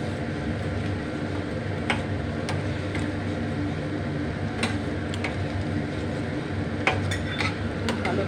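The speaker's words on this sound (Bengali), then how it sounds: "এবার খুব ভালো করে নেড়ে নেব" Shyama rice upma being stirred in a pan, with a steady low cooking background and scattered light scrapes and taps of a spoon against the metal.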